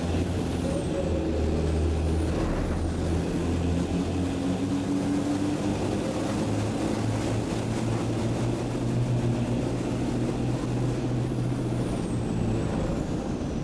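Racing trucks roar around the Hungaroring circuit during a European Truck Racing Championship round, a Freightliner among them, with dense, steady engine drone and air-brake hiss throughout, loud and continuous with no voices.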